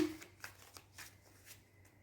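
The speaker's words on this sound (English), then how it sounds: "these cards have been shuffled quite a few times" Tarot cards are shuffled softly by hand at close range, a quiet series of brisk riffling flicks repeating at a steady pace in a calm room.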